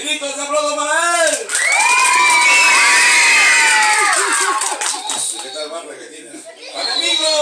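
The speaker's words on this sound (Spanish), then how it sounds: "¡Gritos y aplausos para él!" A crowd of children and adults at a sixth birthday party shouts and cheers loudly for several seconds, with speech before and after the burst.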